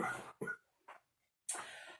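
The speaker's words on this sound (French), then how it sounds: "Oh, mais j'en ai marre de cette toux." Several short bursty coughs from one person indoors, loud and close, in three or four separate fits broken by brief pauses of silence.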